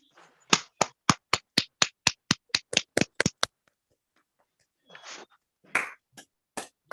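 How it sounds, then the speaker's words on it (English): Guests at a Kiwanis Club of Linstead 41st anniversary ceremony clap for the interclubber of the year: a short run of crisp, evenly spaced claps that speeds up slightly and stops, followed by a few scattered sounds and a voice. "Please give her a round of applause."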